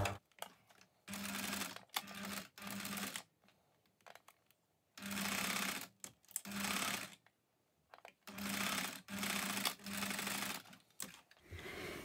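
Sewing machine running a straight stitch of about 2.5 to 3 mm, attaching elastic to lace panties; several loud bursts of fast, steady mechanical whirring separated by short pauses, close by with no talking.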